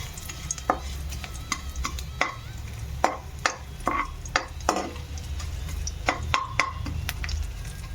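Cumin and black pepper fry in oil in a pan for a chicken curry, a soft sizzle under a string of sharp clicks and scrapes as a spatula stirs against the metal, close and fairly quiet.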